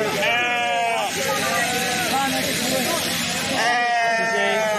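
Sheep bleat loudly at the start and again near the end, over a steady murmur of voices from a crowd at a Balumama palanquin sheep-shearing festival.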